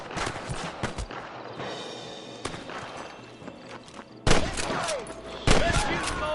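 Gunfire rattles in a shootout with rustlers in Red Dead Redemption, rapid shots and bursts coming both near and farther off, with a couple of loud close volleys near the end and faint voices in the mix.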